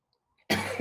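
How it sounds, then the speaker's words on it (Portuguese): After a short silence, a single close, sharp cough bursts out and trails off roughly, during a guided breathing exercise. "Calma, que eu tossi."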